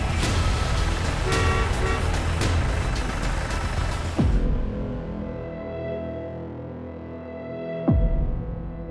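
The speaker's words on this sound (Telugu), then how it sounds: "ఓ కారు శబ్దం విన్నాక మేము ఊపిరి పీల్చుకున్నాం." A car on a forest road in Meghalaya's Garo hills roars loudly at close range, then its engine drops to a lower, quieter hum, with two short toots along the way.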